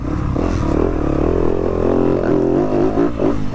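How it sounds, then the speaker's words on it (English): A Fantic XXF 250F four-stroke motocross bike revs up close, its engine note climbing and falling in steady bursts with some mechanical clatter, and no talk over it. "Obviously this is a 250F, so it hasn't got as much power as my 450, but as you can hear me revving it."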